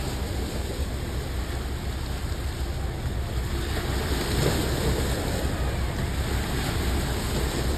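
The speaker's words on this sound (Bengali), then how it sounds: "এদিক দিয়ে এক্ষুনি জাহাজ গেল, একটা বড় টাইটানিক গেল, তার ঢেউ এইটা" Heavy waves from a large ship's wake wash and surge continuously, a dense rushing roar with wind buffeting the microphone, no voices.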